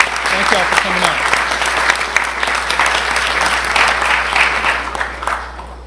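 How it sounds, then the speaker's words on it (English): A school board audience claps for family members of a state runner-up girls basketball team, a thick, continuous round of applause lasting several seconds, with a few faint voices mixed into the crowd. "Let's give them a round of applause"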